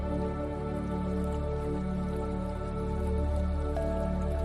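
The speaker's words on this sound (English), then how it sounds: "the way that you hear that beautiful running water" Running water flows steadily and softly in the background, a continuous gentle burble with no break.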